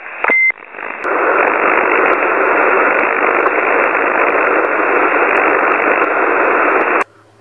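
Dense hiss of radio static on an empty CB channel fills the air, steady and loud after a short beep and click, then cuts off abruptly near the end.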